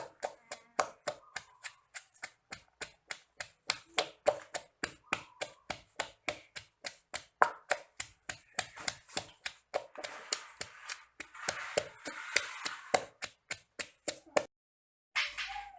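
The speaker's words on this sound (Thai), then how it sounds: "ตำพริกครับ ตำพริกก็กระเทียมใส่กันตำพ่อหยาบก็ได้ครับ" Rapid, regular thuds of a pestle pounding chilies and garlic in a mortar, dozens of sharp close strikes in a steady rhythm, pausing briefly near the end.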